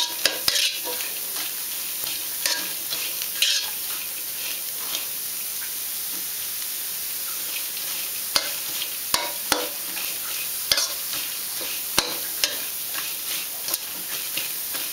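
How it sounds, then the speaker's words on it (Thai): Lemongrass, kaffir lime leaves and herbs dry-roasting in a pan over medium heat, a steady soft hiss broken by scattered spatula scrapes and taps against the pan, close and alone without speech. "ค่อยๆคั่วนะคะจะได้หอมเครื่องเทศเครื่อง สมุนไพรค่ะตะไคร้ใบมะกรูดอะไรพวกนี้"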